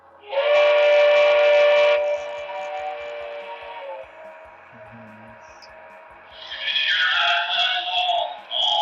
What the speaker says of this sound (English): And then we're going to do our horn,